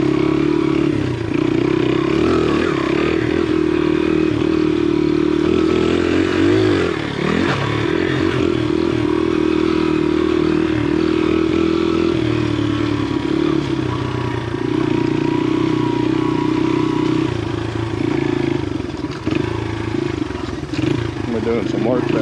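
Small Honda XR80 and XR70 dirt bikes riding a newly cut trail, with a steady close engine drone and shifting revs that run throughout, plus occasional clatter.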